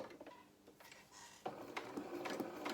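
A domestic sewing machine stitches a small doll waistcoat, giving a quiet mechanical whirr in short bursts with brief pauses and a busier run toward the end, heard close with no talking.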